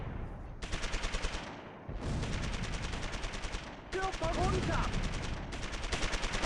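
Gunfire in the video game Close Combat III, rapid machine-gun bursts in repeated rattling strings separated by short gaps, loud and close, with a brief voice in between.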